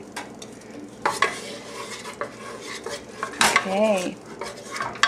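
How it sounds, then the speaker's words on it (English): Food stirred in a frying pan with a spatula, scraping and clattering against the pan in irregular strokes over a light sizzle, close up, with a short spoken word and a voice briefly. "we're going to use a different spatula to stir it up"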